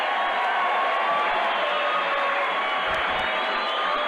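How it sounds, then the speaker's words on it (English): A packed boxing arena crowd roars steadily for Benny the Jet during his fight against Tagami, a dense, unbroken wall of cheering that holds at full strength for about four seconds. "The crowd roars as one for Benny the Jet."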